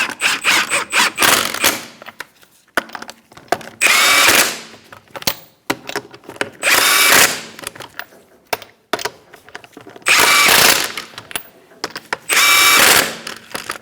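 A power tool zips wheel lug nuts tight on a 2004-2009 Mazda 3 in four loud, close bursts, each a second or so long, with quiet clicks and handling noises between them.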